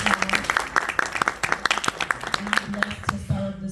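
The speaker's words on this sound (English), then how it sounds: "y'all give him a round of applause" Scattered audience clapping at a Jefferson County Democratic Party meeting, a moderate round of applause in a room, with a speaker's voice talking over it near the end.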